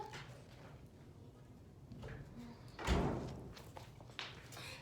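A pet dog named Shanta stirs indoors during a home yoga session, giving a faint whimper or bark and a muffled thump partway through, heard quietly over low room noise.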